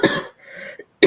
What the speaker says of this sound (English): We are still getting past this cough.